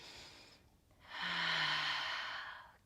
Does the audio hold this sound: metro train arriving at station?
no